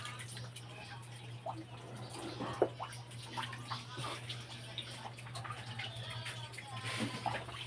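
Water splashes and trickles steadily during a washing, with a low constant hum beneath and occasional sharper drips and splashes throughout.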